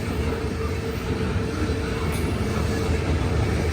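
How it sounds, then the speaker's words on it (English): A loaded CSX coal train rolls past on a main line at St. Albans, West Virginia, giving a steady, close rumble of wheels and cars that holds even and continuous throughout, with no talking. "loaded CSX coal train."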